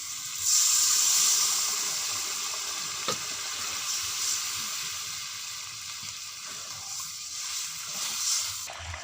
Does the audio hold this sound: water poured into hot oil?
yes